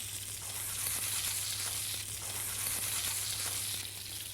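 Lamb rump fat, English new-season lamb, sears in a hot pan, giving a steady, close, dense sizzle and crackle that holds without a break and has no voices over it.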